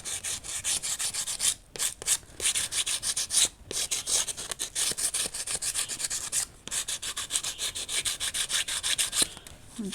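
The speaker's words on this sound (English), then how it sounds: "I'm just sanding these down a bit." Sanding of air-dry clay bowl edges by hand, a steady close scratchy rubbing in continuous strokes with a few brief pauses, no talking.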